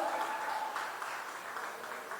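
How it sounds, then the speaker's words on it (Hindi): Applause from a wedding sangeet audience after a dance performance by young girls, a steady broadband patter of many hands held for about two seconds, moderately distant and even in level. "जोरदार तालियां हो जाए for the pretty little girls"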